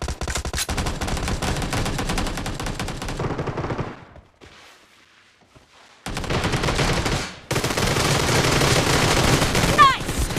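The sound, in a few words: gunfire in the video game PUBG Mobile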